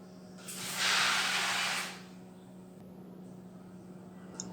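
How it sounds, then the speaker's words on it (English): A remote-controlled fire fighting robot sprays foam in a steady hissing burst lasting about a second and a half, close and fairly loud, then cuts off, leaving a low electrical hum behind. "So it was our foam spray"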